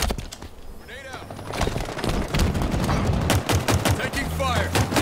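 Halo Infinite multiplayer gunfire during a Strongholds match: dense, continuous bursts of rapid shots and booms, loud and close, with game voice lines and effects mixed in.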